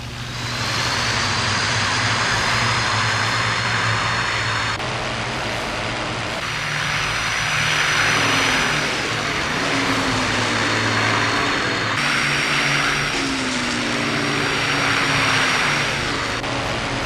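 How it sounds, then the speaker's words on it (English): A Bf109 fighter plane's piston engine drones loudly through takeoff, a steady, close roar with shifting pitch that swells and recedes over its length, with no talk. "The flight takes off to gather information."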